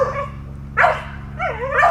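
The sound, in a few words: dog barking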